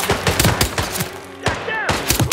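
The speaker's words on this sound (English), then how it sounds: "Gunshot." Rapid gunfire in the video game Hitman 3, with a string of sharp, loud shots in quick bursts and a brief pause before more shots crack out.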